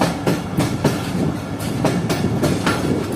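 Rehman Baba Express running through Mirpur Mathelo railway station without stopping on a foggy winter night, wheels hammering out a quick, regular clickety-clack over a dense rumble, loud and close, with no talk.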